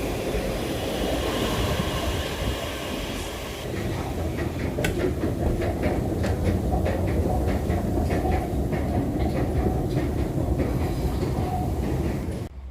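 A train rumbles past directly overhead in Sweden, a loud continuous roar with rhythmic clickety-clack of wheels on rails for over ten seconds before it fades at the end.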